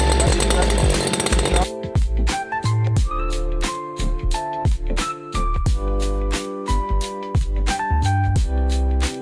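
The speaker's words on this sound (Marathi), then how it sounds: "ही रस्सी रिकॉइल स्टार्टर म्हणून आपण स्टार्ट करतो." A STIHL mini weeder's petrol engine with the choke on sounds a loud buzzing run after a burst of noise at the start. The engine then revs in rapid uneven bursts and rises and falls close by, with no talking.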